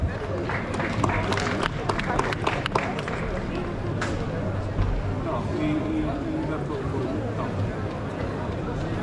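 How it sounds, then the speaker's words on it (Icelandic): An audience claps for the programming contestants at a student competition awards event, sustained mid-level applause from a large crowd in a reverberant hall, with hubbub underneath. "Gefum keppendum í forritun"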